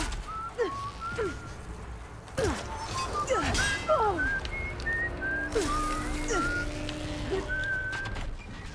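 A character in Horizon Forbidden West whistles a melody of short rising and falling notes in a lilting run, close and clear, with brief background noises between phrases.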